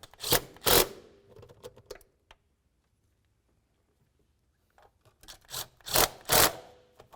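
Rasping, rubbing hand-tool strokes from tightening a nut on the transmission mount of a 2002-2006 Honda CR-V, coming in close bursts at the start and again at the end with a quiet pause between.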